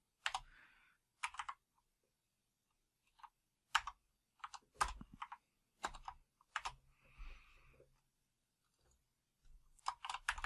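Typing on a computer keyboard comes in short, quiet bursts of keystrokes separated by pauses, close by in an otherwise silent room.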